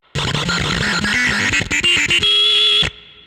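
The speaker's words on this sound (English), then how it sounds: "here's the sound of a spaceship in an old school video game" A guitar effects pedal produces a retro video-game spaceship sound, loud synthetic stepping tones that jump in pitch, then shift to a sustained high buzzing whine before cutting off abruptly.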